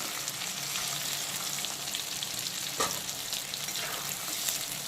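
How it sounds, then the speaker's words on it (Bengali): Peeled pointed gourd (potol) pieces fry in oil and are lifted out, giving a soft, steady hiss of bubbling oil with a brief knock of a utensil midway. "ভাজা পটলগুলোকে আমি তেল থেকে তুলে নেব"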